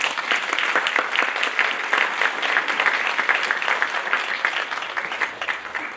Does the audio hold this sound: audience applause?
yes